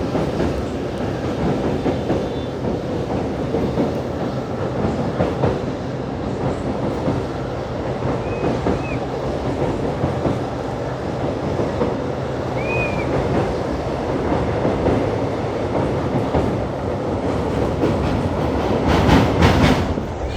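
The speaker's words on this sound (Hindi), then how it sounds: "और हमारी ट्रेन अब धीरे धीरे एक्सेलरेट करना शुरू कर रही है" A passenger train rolls slowly across the new Pamban Bridge while gradually accelerating. A constant loud rumble and rattling wheel clatter are heard from on board, with brief faint squeals and no talk.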